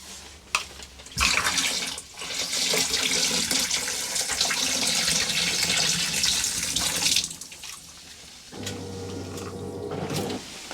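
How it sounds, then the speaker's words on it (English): A camper trailer's water pump runs while pink antifreeze is poured into the drains to winterize the lines, giving a loud, steady rushing whir that continues for several seconds, then stops and returns more quietly near the end. "I think you can hear the pump running."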